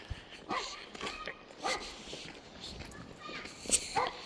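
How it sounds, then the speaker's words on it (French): A dog barks in short sharp bursts spaced a second or so apart, mixed with footsteps and people talking during an outdoor walk. "Oh ta gueule le chien."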